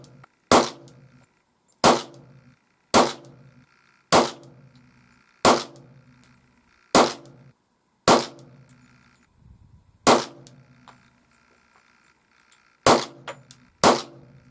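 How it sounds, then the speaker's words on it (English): A .45 ACP pistol firing rounds loaded with injection-molded muzzleloader sabots: about ten loud, sharp reports at an unhurried, slightly uneven pace, each with a short ringing tail and quiet gaps between. "fire 10 rounds of these with the MMP Sabots"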